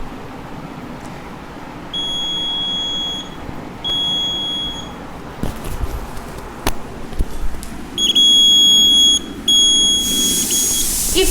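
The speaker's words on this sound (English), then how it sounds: "If any kind of obstacle passes through it, it will buzz, it will beep." An obstacle-sensing buzzer on a smart wheelchair for disabled users, emitting loud high-pitched electronic beeps in repeated bursts of a second or two, with clicks and handling noise in between.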